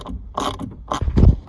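Ratcheting clicks from a 5/16 socket ratchet backing out bolts on an A-pillar grab handle inside a 7.3 truck cab, a few short bursts of close mechanical clatter.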